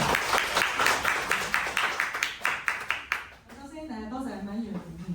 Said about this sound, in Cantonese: 咁大家俾掌聲。